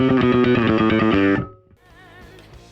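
Bass guitar notes from a Yamaha Attitude bass, its P-style pickup soloed and fed through a Line 6 Helix: a loud, fairly bright run of plucked notes for over a second, then fading into faint ringing with no voice.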